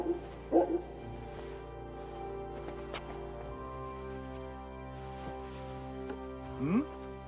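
A dog in the video game Kingdom Come Deliverance 2 gives a couple of short yips and whimpers, soft and brief at the start and again near the end, over a quiet game ambience with faint low hum.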